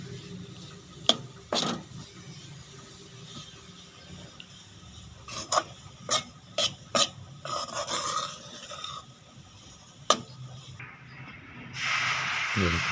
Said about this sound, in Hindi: थोड़ा थोड़ा डाल के उसको मिक्स करते जाएं,